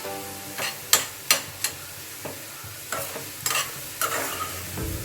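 Atta noodles sizzle in a pan over a high flame while a utensil stirs them in several sharp, irregular scraping strokes over a soft steady frying hiss, close up and with no voices.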